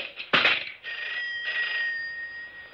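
A home landline telephone rings with a bright electronic trill, one short burst followed by a sustained ringing tone, loud and close in a quiet room.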